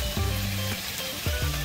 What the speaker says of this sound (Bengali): ভালো করে কষে নিতে হবে টমেটোটাকে।